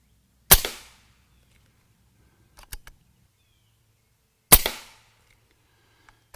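Two sharp, loud shots from a Condor SS .25 caliber air rifle while plinking outdoors, spaced several seconds apart, each followed by a faint distant pellet impact.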